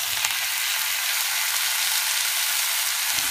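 Onion and potato cubes sizzle steadily in a hot pan, a dense, even frying hiss that stays loud and unbroken, with faint stirring clicks and no talk.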